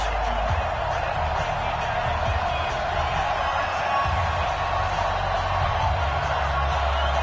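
Steady roar of a sold-out stadium crowd at a Patriots versus Arizona Cardinals football game in an EA Sports video game on PS4, a constant dense wash throughout with low rumbling swells, under faint commentary.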